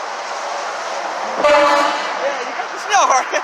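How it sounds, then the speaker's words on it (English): A truck's snail-style air horn gives one short blast over steady interstate traffic noise, with a second, fainter toot near the end and voices nearby. "Yeah, you got the snail horn."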